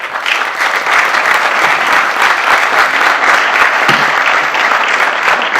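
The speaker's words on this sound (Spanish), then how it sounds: "un aplauso para él" A congress audience applauds continuously, a dense, loud, steady wash of many hands clapping with no talk over it, sustained through the whole stretch.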